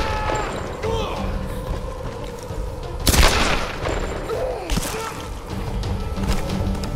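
Gunshots ring out in the Tomb Raider video game, two heavy booming blasts a moment apart over a busy backdrop of game noise, with a voice talking in the background.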